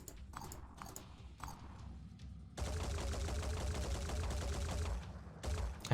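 Video game shotgun fire, a few scattered blasts followed by a long dense burst of rapid gunfire and clatter, loud and continuous before tapering off near the end.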